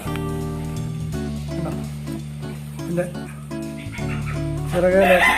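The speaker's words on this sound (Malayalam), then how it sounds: "ഇത് ഒരു ഫയോമേഡ് ഒരു പെടക്കോഴി കുഞ്ഞുങ്ങളാണ്" Three-month-old Fayoumi chickens cluck and call close by, with a low steady drone and a brief rising burst of higher squawks near the end.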